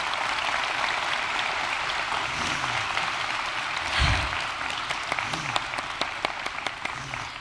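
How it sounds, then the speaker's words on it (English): Graduation audience applauding the coaches at a McLoud, Oklahoma ceremony, steady crowd clapping through the whole stretch with a brief louder swell midway, no talk over it. "can I have everyone give them a round of applause for making a difference?"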